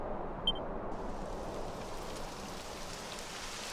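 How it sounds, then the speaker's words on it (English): Steady, even rain hiss from falling rain in the Dragon Quest XI video game, a dense, continuous wash that holds at the same level throughout with a faint brief chime early on. "It would have to go and start raining, wouldn't it?"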